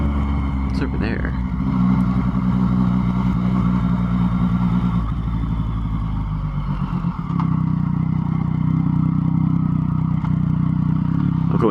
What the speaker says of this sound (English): I'll go in second gear, just to be a little quieter. That's another thing with the exhaust. It is so loud